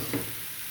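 Dry-ground spice powder frying in oil over cooked fenugreek leaves gives a brief, close, steady hiss and sizzle.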